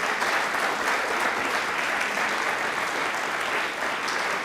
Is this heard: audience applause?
yes